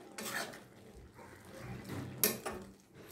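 Sabut moong dal with fresh coriander leaves is stirred in a cooking pan, with quiet scraping and a few sharp clinks of a spoon against the metal.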